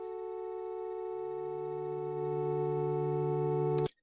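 A buzzy square-wave synth organ lead holds one steady, bright tone for about four seconds, joined by a lower sustained note partway through, then cuts off abruptly. No one speaks over it.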